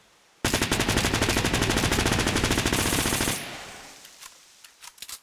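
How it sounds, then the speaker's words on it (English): A real submachine gun fires a sustained burst of about three seconds, loud rapid cracks in close succession, followed by fading echoes and a few scattered clicks. "Now let's move on to the next gun, which is the submachine gun."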